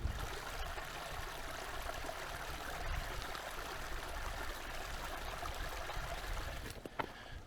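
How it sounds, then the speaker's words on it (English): A mountain stream beside a forest campground rushes steadily and close by, a constant broadband wash of flowing water with a couple of faint clicks near the end. "The stream itself seems like it runs all the way down towards"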